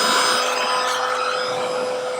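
A heat gun blowing steadily while heating yellow tint film on a BMW X1 xdrive35i fog light, a constant loud whirring hiss with a faint whine and no talking.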